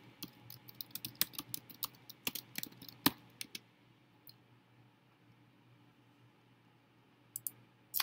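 Quick bursts of computer keyboard clicks type a search into a library database, crisp and close, then fall quiet before a few final clicks.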